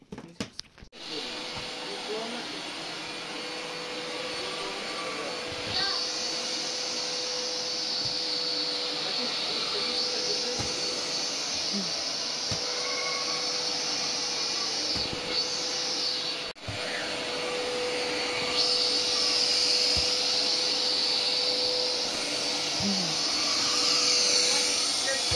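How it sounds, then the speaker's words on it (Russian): A newly bought household vacuum cleaner drones steadily and close for the whole stretch, a continuous whooshing hum with slight shifts in pitch as it moves across the floor. "Очень удобно оказался пылесос."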